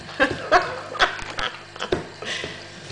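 A dog, being offered corn flakes with banana, gives a series of short whimpers and yips at close range, with small sounds between them.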